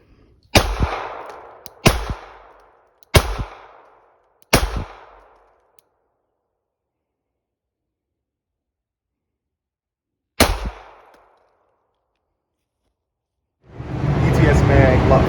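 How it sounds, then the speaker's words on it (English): Four sharp Glock 42 pistol shots ring out in quick succession, each with a short decaying echo, followed after a pause by one more lone shot, then a burst of broadband noise at the end. "here's that Glock 42. I just got some shots off"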